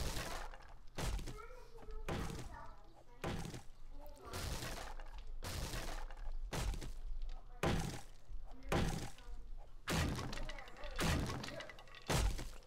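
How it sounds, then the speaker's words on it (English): Fire axe chopping and breaking wooden structures in the game 7 Days to Die, a rhythmic series of about a dozen sharp thunks and cracking breaks at a steady pace. "now we can actually just utilize our fire axe now"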